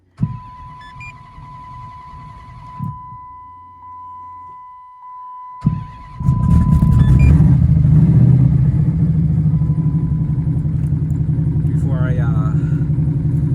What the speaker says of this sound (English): Listen to that smooth idle.